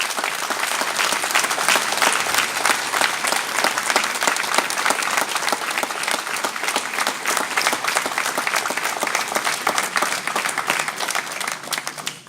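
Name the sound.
audience applause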